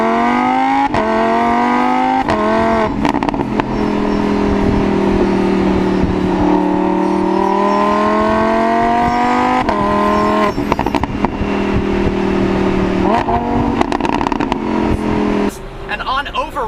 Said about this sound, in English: This V10 is one of the best sounding V10s in the business.